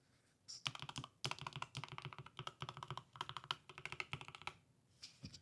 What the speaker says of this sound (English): So I'm going to put this down and like just type a word.